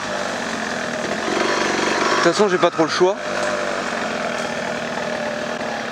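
A DTLC 125cc motorcycle engine runs steadily up close, with a brief burst of revving in the middle, while someone talks over it.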